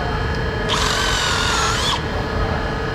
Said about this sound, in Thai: เราใช้สว่านเจาะก่อนนะคะ เจาะเพื่อจะเสียบขาตั้งโกนะคะ